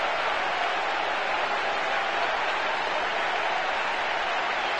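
A stadium crowd in a football video game roars after a goal, a steady, broad wash of cheering and applause that stays even and unbroken throughout.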